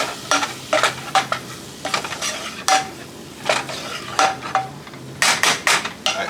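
A stew is stirred in a pot with a utensil, sharp rhythmic scrapes and clinks against the metal recurring every half second or so over a soft simmering hiss, close and clear, no voices.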